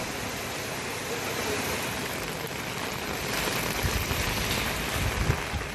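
Heavy rain pours nonstop around Kottakovil in Tamil Nadu, a loud, dense, steady wash of falling water that swells slightly toward the end with no voices.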